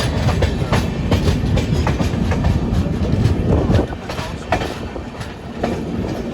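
Moving passenger train with WAP-4 and WAP-7 locomotives near Kopargaon, a loud, close, continuous rumble with rhythmic clickety-clack of wheels over rail joints, easing slightly toward the end, with voices faintly present.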